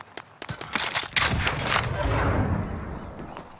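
Gunfire in a video game match, a rapid string of close, sharp shots building into a sustained automatic burst that trails off into echoing rumble, loud and dense.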